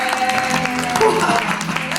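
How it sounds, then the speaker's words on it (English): A church congregation claps during a service, dense overlapping hand claps mixed with voices and background tones, short and fairly close. "Give the Lord a clap"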